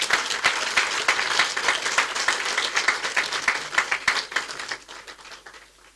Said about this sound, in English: Please, I want you all to give Baba a resounding round of applause.